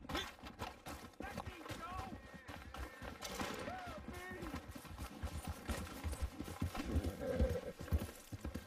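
Hooves clip-clop in a quick rhythm under muffled talking and game-like ambience in Red Dead, with a horse whinnying and scattered shots in the background.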